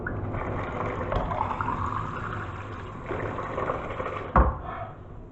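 Water is poured out of a cup in a steady splashing trickle that runs for several seconds, followed by a single sharp knock near the end.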